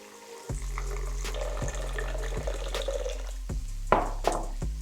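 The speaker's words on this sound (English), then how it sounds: "Water straight into my blender." Water pours steadily into a blender jar in a kitchen, a continuous splashing stream with a few sharper gurgles near the end, close and fairly loud with no talking.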